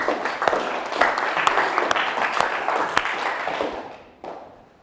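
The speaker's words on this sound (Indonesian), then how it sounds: "Beri aplaus untuk teman kalian." A classroom of automotive engineering students claps for a classmate, a dense, steady patter of many hands that thins out and fades near the end.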